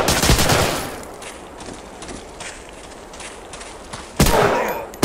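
Gunfire in Medal of Honor Allied Assault: a loud burst of shots at the start, a quieter stretch of scattered distant reports, then another sharp close burst near the end.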